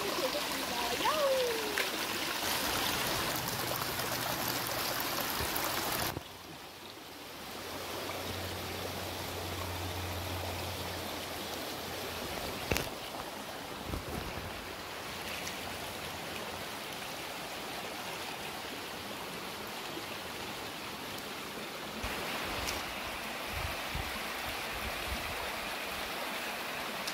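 Steady rushing water of the Hongnyong Falls valley stream in Yangsan, South Korea, continuous broadband flow throughout, with brief handling bumps and a short dip partway through.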